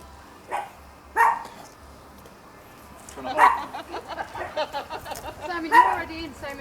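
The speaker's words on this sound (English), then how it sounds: "Serious one-take interview, and the dog barked." Dog barking in a custom welding and van conversion shop, a few sharp separate barks near the start followed by more barks mixed with people talking nearby.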